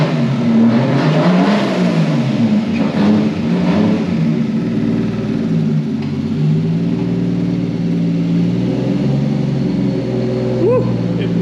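Turbocharged car engine, the 33DE+t build, revving from low RPM with modest boost, heard close and loud, with rising and falling pitch and a brief high whistle near the end.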